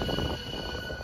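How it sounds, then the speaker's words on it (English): A huge bomber plane flies through a modded video game, giving off a steady, broad rumbling drone at moderate level with no speech over it. "That was a huge bomb plane."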